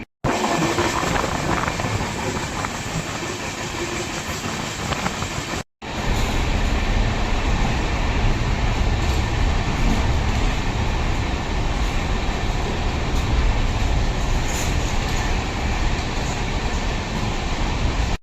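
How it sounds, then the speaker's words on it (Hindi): Amrit Bharat Express train running at speed, heard as a loud, continuous rumbling roar of wheels and carriages. The noise cuts out for a moment near the start, then carries on steadily to the end. "पूरी ट्रेन अपनी खाली है और अपनी चल रही है बढ़िया रफ्तार में"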